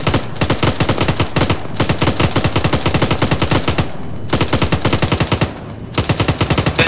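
Bursts of automatic gunfire in an Arma 3 battle, rapid loud rattling volleys in several strings separated by short pauses, no voices over them.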